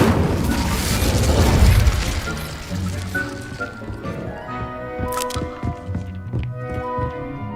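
An Incendio fire spell in the video game Hogwarts Legacy goes off in a loud, roaring burst that swells over the first two seconds, then gives way to quieter musical tones and small pops.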